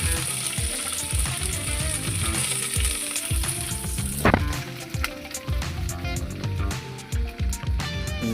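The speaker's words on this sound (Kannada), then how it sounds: "ಸಾಸಿವೆ, ಜೀರಿಗೆ, ಕಡಲೆ ಬೀಜ, ಆಮೇಲೆ ಮೆಣಸಿನ್ಕಾಯಿ ಇಷ್ಟು ಹಾಕ್ಕೊಂಡು ರೋಸ್ಟ್ ಮಾಡ್ಕೊತಾ ಇದ್ದೀನಿ" Mustard seeds, cumin, peanuts and chillies roast in a hot pan with a steady, dense sizzle and crackle, broken by a sharp clatter midway. No one speaks.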